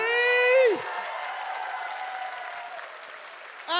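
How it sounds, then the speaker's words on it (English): An audience at the Summer of Sonic 2016 cosplay contest breaks into loud, sustained applause with scattered cheers, close and steady for several seconds and swelling again at the end after a brief tonal sound at the start. "One big round of applause, please."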